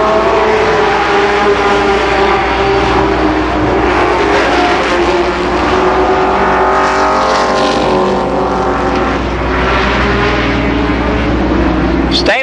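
Race cars circling Columbus Motor Speedway in a 1992 late-lap battle, a loud, steady engine drone that holds through the whole stretch, with a commentator talking over it.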